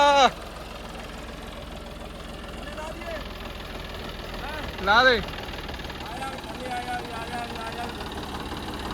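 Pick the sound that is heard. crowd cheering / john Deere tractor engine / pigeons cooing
john Deere tractor engine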